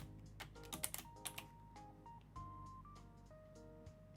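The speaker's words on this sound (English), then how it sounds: "Ooh, keyboard mashing." Rapid, uneven keyboard mashing on a computer keyboard, a burst of clustered key clacks followed by scattered taps, fairly close but quiet, with electronic tones from a game sounding underneath.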